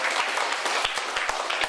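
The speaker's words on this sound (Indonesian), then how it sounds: "Ayo kita tepuk tangannya." Audience applause at a university student presentation, a dense patter of many hands clapping steadily and fairly close for the short stretch, with no voices over it.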